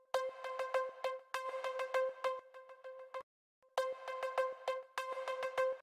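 Amapiano afro beat with an effect on a cross beat: a bright, tonal percussive pattern in quick repeated hits, played in two phrases split by a short silence, with no voice over it.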